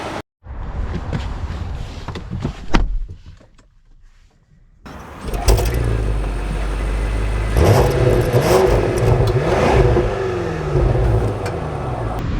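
A Range Rover Autobiography seven-seater, heard from inside the cabin: a few clicks and a short rise, then a pause before the engine starts. It settles into a steady, loud engine hum as the vehicle pulls away.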